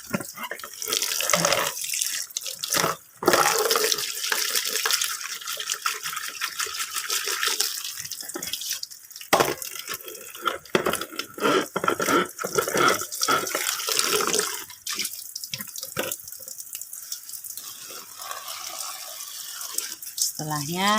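Tap water runs steadily over aglonema plant roots during repotting, a continuous close splashing rush with brief pauses and a few louder bursts.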